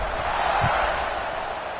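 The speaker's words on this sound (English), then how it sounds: "this crowd is buzzing after that last score" A football stadium crowd on a wet day gives off a dense, continuous roar, loud and sustained, with a commentator's voice over the top.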